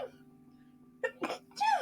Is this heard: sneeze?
yes